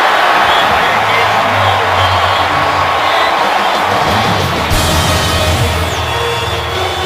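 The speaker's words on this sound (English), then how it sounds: "Something else for the Chiefs fans to cheer about." Chiefs fans roar and cheer throughout a football stadium during a Broncos at Chiefs game, a loud, dense crowd swell with whoops, holding steady and brightening near the end.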